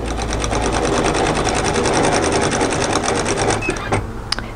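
A sewing machine runs at a rapid, even stitching rhythm, sewing contrast binding onto slippery polyester. It is loud and close, then slows and stops near the end with a couple of small clicks.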